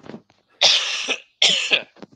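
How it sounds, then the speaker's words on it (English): Two strong, drawn-out coughs close by, each a harsh burst lasting over half a second, separated by a short pause with faint breathing around them. "Goodness me, I'm going to cough again."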